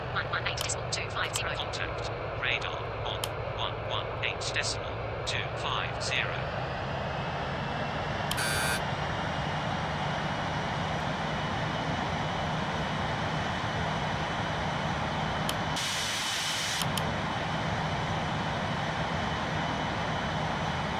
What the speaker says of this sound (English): Clear for takeoff runway 27.